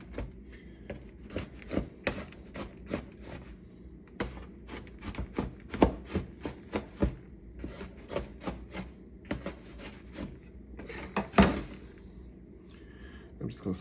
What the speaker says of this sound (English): I'm going to kind of rough chop some white chocolate chips